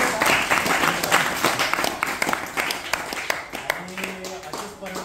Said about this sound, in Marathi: त्यासाठी एकदा टाळ्या होऊ द्या.